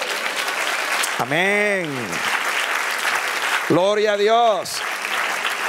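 A church congregation claps steadily in a continuous patter, while two long sung or shouted voices rise over the clapping, one early and one later.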